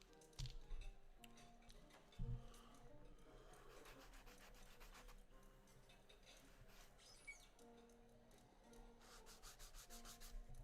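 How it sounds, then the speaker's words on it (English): Rhythmic rubbing strokes of sandpaper on a wooden hurdy-gurdy part, faint and close, with soft background music running underneath. "let's get to sanding."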